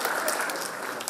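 Audience applause filling a hall at an inter-school competition grand finale on Iqbal Day, a steady dense clapping that holds evenly for about a second.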